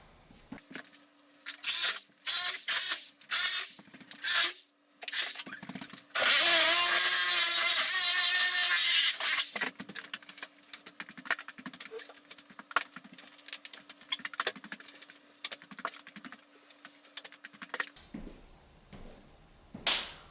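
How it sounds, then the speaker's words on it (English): Reciprocating saw cutting through nails along wall studs during load-bearing wall removal, a loud, steady buzzing cut of a few seconds, set among sharp intermittent knocks and clatter before and after. "I'm going to proceed by cutting the bottom of the nails that are on the wall studs with my reciprocating saw"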